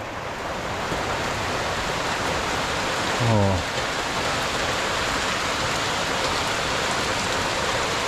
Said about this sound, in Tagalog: Malakas na naman yung dating ulan.